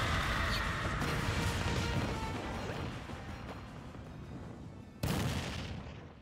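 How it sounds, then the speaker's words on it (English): Explosions in the fighting game Smash Bros Ultimate: a loud crashing blast that decays slowly, then a second sharp boom near the end, with no talk over it. "Explosions."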